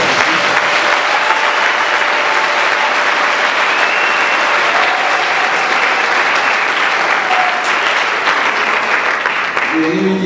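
A church audience at a testimony event keeps up continuous, loud clapping throughout, thick and even, with faint crowd murmur underneath and a brief hint of a voice toward the end.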